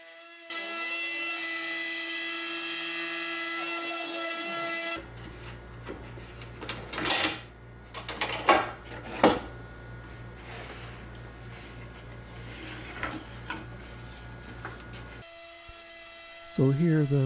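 CNC router cutting plywood bench legs: a steady high machine whine for several seconds, then a louder grinding cut with sharp bursts, ending in a short tonal hum, all fairly quiet and distant.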